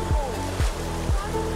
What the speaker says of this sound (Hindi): अब आएगा पानी